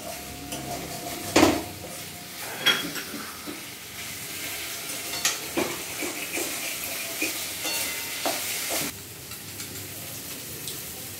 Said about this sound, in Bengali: মশলার সঙ্গে আবার ভালোভাবে কষিয়ে নেবে।